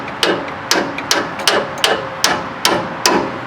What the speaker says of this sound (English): I'm just going to tap it in